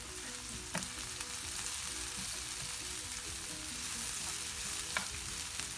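Stir-frying in a pan while making grilled mackerel: a continuous, even sizzle at close range with a few light utensil scrapes and clicks, no talking.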